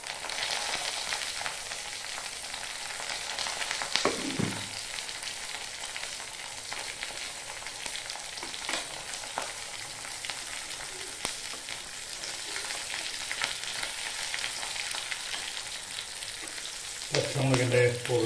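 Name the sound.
slit green chillies frying in a pan with beef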